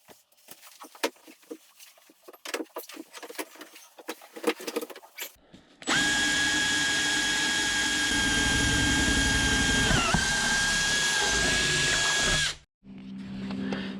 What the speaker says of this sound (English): I have to go inside of the hole and drill out a spot for the other pisser that I need